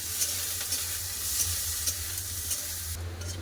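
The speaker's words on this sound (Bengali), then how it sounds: "কেটে রাখা পেঁয়াজ ভালো করে লাল করে ভেজে নেবো" Chopped onions fry in oil with dry red chilli and bay leaf until browned, a steady close sizzle with occasional scraping stirs and no talk.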